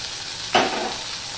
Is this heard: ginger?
yes